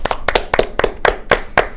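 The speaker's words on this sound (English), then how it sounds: "So I say we give them all just a big round of applause." A studio audience claps in a brief burst of applause at a nightly programme, sharp hand claps landing in a quick, fairly even rhythm, close and loud, with no talk over them.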